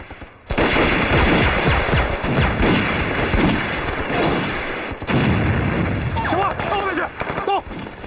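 Sniper gunfire in a war film scene: loud sharp shots and bursts crack over a dense, booming battle din, continuing throughout, with brief shouted voices near the end.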